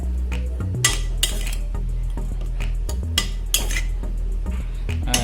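Utensil clinks and scrapes as stir-fry vegetables are stirred in a pan over a low flame, with salt added; several sharp clanks ring out over a steady low hum, with no talking.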